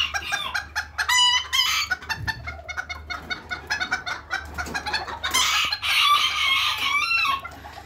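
Miniature chickens and roosters at a ranch breeding pen cluck and crow in a busy overlapping chorus, several birds calling at once, close and fairly loud, with no talk.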